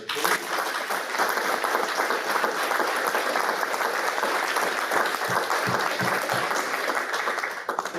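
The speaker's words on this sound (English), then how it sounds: "so if we could please give them a final round of applause." A conference audience gives a discussion panel a final round of applause, steady and full throughout, dense clapping filling the room for about eight seconds with a few brief voices mixed in.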